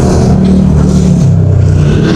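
The gasoline engine of an owner-type jeep runs loud and close, a steady low rumble with a slight shift in pitch midway and no talk over it.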